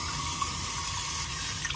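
Tap water runs steadily into a sink for washing peeled taro, a continuous close splashing flow with no talking over it.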